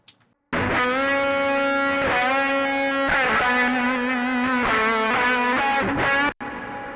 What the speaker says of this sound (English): And then I'm adding quite a bit of reverb.